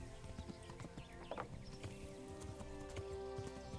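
Horse hooves clip-clop in a steady walking rhythm in the medieval game Kingdom Come: Deliverance, close and moderately loud over a faint ambient background, with no speech.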